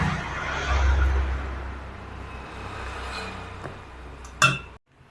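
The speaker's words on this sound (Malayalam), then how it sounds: "അങ്ങനെ ഇതാ നന്നായിട്ട് ഇളക്കി യോജിപ്പിച്ചു" Appam batter being stirred and mixed in a bowl, a steady scraping swirl at moderate level with a few light clinks near the end before it cuts off.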